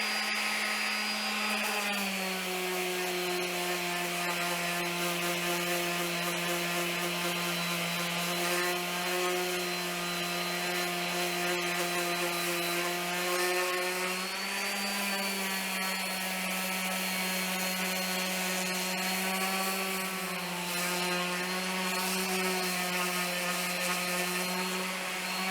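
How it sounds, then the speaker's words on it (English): A live-edge wood slab being sanded with 180 and then 220 grit sandpaper, likely by a power sander, giving a steady, loud, continuous droning whir that runs unbroken from start to finish with no talking. "I'm using a 180 grit followed by 220 grit sandpaper, and I'm going to sand the whole slab from front to back"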